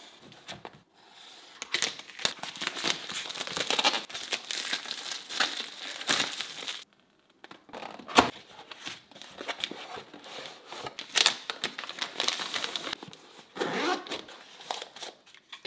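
Packaging of a new DJI Osmo Pocket 3 camera being unwrapped: close, busy crinkling and rustling of plastic and paper in uneven bursts, with brief pauses between handling and no voices.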